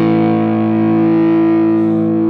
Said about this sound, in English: You get the pure distortion of the power tubes.